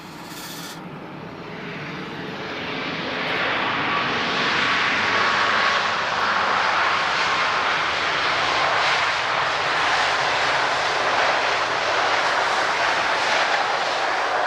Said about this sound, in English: Excellent, reverse thrust.